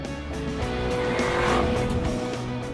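A supercharged 6.2-liter LT4 V8 Chevrolet Camaro ZL1 driving hard, its engine note rising and falling with tires squealing through a corner, loud and close throughout.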